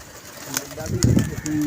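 Pigeons at a pigeon club coo softly in short low murmurs near the microphone, with a brief flutter of activity and people talking in the background.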